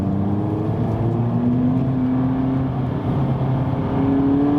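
A Volkswagen Polo GTI engine pulls at full throttle from inside the car, a steady droning note climbing gradually in pitch with a brief dip as the gear changes, loud and continuous.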